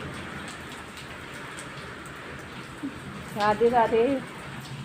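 Heavy rain falls steadily under dark clouds, a constant close hiss of drops on surfaces throughout, with a woman's brief spoken greeting breaking in near the end.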